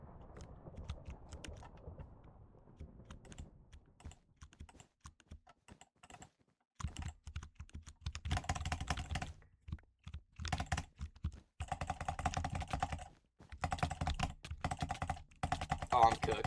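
Typing on a computer keyboard in bursts of rapid, clicky keystrokes separated by short pauses, close and moderately quiet, growing denser toward the end.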